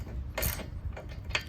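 Ratcheting wrench clicks and metallic turns as bolts are tightened on JCR Offroad tube doors fitted to a Ford Bronco; a few short, close bursts of ratchet noise over a quiet background.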